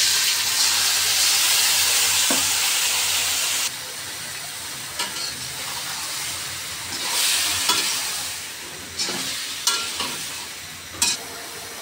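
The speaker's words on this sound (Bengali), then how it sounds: "হালকা ভাজা ভাজা করে মাছগুলো দিয়ে দিই। এখন মাছগুলো দিয়ে দিলাম।" Stinging catfish fries in a pan, cooked with ridge gourd for a curry, giving a loud, steady sizzle and hiss that eases after a few seconds and continues with occasional sharper crackles and pops.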